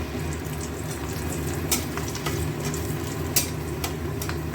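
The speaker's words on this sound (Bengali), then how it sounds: "আলুটা একটু ভাজা ভাজা হোক," Small pieces of potato fry in a pan with a steady, close sizzle that does not stop, broken by a few sharp crackles and pops.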